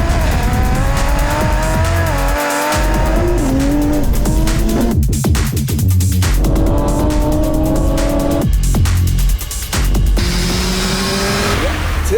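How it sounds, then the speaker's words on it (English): Two rear-wheel-drive street cars with B58 engines, a 900 bhp Toyota GR Supra and an 850 bhp BMW M240i, roar close by in a drag race. Their revs climb repeatedly and tyres squeal throughout. "it's Toyota vs BMW, and both of these builds are certified street weapons."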